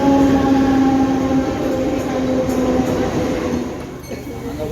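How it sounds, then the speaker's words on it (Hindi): A train pulls into a station near Dehu Road, its loud steady rumble and faint squealing wheels filling the platform as the noise gradually eases, with voices faintly present. "तो अभी हमारी जो ट्रेन है वो आ गई है"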